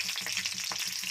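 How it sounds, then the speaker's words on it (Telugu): Green chilies fry in hot oil, giving a continuous close sizzle with a busy bubbling crackle and no voices over it. "ఆయిల్ వేడెక్కింది. పచ్చిమిర్చి వేసుకున్నాం."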